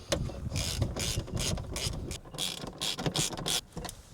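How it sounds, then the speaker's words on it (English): Quick metallic clicking strokes of a hand ratchet tightening the rear seat bolts of a fire extinguisher mount in a Kia Tasman, coming in short repeated bursts, close and fairly quiet. "don't forget to tighten the back bolts up again"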